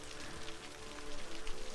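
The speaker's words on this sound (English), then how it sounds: "And then it's raining really bad." Heavy rain in the city-building game Cities Skylines, a dense, steady hiss of rainfall pattering on surfaces with no voices over it.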